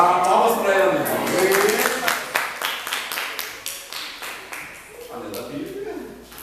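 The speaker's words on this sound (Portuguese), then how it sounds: "Palmas para ela, então." A class claps in a run of sharp, evenly spaced hand claps that fade out, with a voice talking over the start and again near the end.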